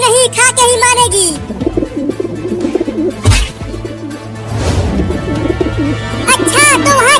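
A cartoon pigeon cooing in short warbling calls at the start and again near the end, with cartoon voices and sound effects in between, loud and close in a busy animated scene.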